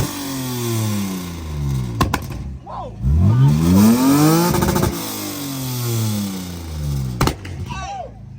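A BMW E46 engine revs hard several times, rising and falling in pitch with sharp pops between blips, while voices talk nearby.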